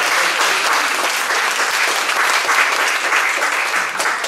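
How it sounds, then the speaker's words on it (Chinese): An audience at a book launch talk on folk religion claps warmly, a dense, steady round of applause that stays loud and even from start to finish. "来请大家热烈的掌声"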